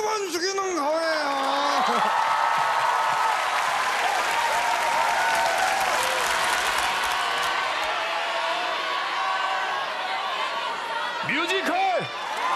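Studio audience at a year-end KBS comedy show breaking into loud, sustained applause with some whoops and laughter, while a voice talks over the opening and closing moments.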